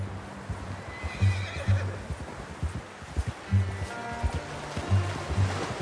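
A horse in the video game Red Dead Redemption 2 whinnies a few times while hooves clip-clop steadily, set against a soft outdoor ambience.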